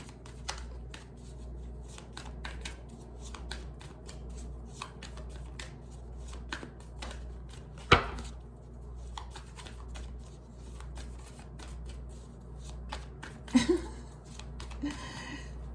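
Tarot cards being shuffled by hand, a long run of quick, soft riffling snaps and flicks, close and steady over a low hum.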